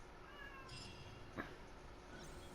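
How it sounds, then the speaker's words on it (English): A cat cries faintly in a quiet room, one short soft meow mid-way through, otherwise near silence. "I hear my cat crying"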